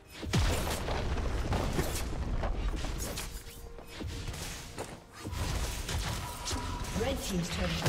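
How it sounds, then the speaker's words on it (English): Booming crashes and thuds from a turret being destroyed in a League of Legends match, a dense layered barrage of impacts over game effects and voices. "Red team's turret has been destroyed."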